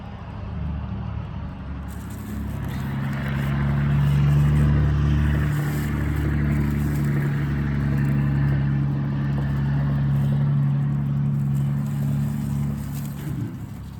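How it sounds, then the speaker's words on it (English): A loud truck rolls down a road, its heavy low engine rumble swelling in the middle and holding steady before easing off, close by and alone. "Y'all forgive this loud truck that's about to come down the road."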